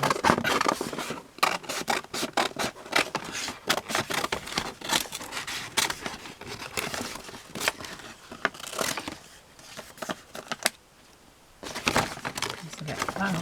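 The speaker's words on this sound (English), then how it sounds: "Why am I using these big scissors?" Big scissors cutting through a used paper gift bag, giving a run of quick crisp snips and crinkles that come and go with short pauses, close up, while a person talks.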